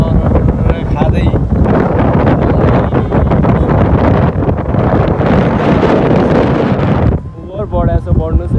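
Wind buffets the microphone in a loud, continuous roar while someone walks outdoors through green countryside beside the Bhote Koshi river in Nepal, briefly easing near the end.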